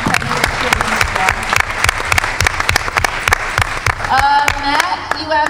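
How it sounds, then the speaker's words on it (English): Audience applause for a national champion competitive cheerleading squad, dense continuous clapping from a large crowd filling the room throughout, with cheers and voices rising near the end. "So a big round of applause for our cheerleading squad, competitive cheerleading squad."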